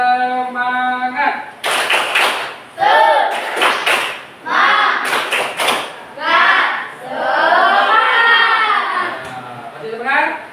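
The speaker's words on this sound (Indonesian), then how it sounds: "Biar semangat, Bapak minta tepuk tangan dulu. Tepuk semangat." Indonesian classroom students perform a rhythmic group clapping chant, several quick bursts of sharp claps alternating with children's voices chanting and talking, close and lively.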